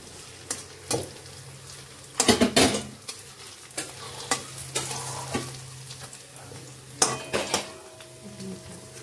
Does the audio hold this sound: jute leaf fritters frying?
yes